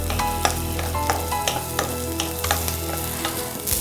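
Shallots and garlic sautéing in coconut oil, a steady sizzle broken by repeated spoon stirs and scrapes against the pan, close and fairly loud with no voices.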